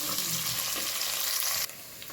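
Green chilli, onion and tomato fry in a pan with a steady, broadband sizzle that runs continuously, dropping slightly in level near the end; no voices.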